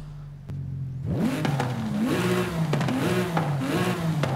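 A Porsche 911 GT2 RS engine in Forza Horizon 5 idles briefly, then revs hard through several rising and falling pulls, loud and close with crisp shifts between bursts.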